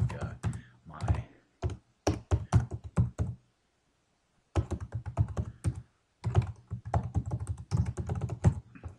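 Typing on a computer keyboard while laying out buttons in Xara web design software, with quick irregular bursts of close key clicks separated by brief pauses.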